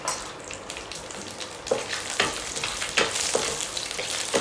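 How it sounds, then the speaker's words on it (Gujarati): Peanuts sautéing in hot oil with mustard seeds and cumin for Gujarati-style poha: a close frying sizzle with occasional stirring scrapes that grows louder toward the end. "થોડા એને સાંતળી લેવાના છે સરસ રીતે શેકાઈ જવા જોઈએ તો જ શિંગદાણા સરસ લાગે છે"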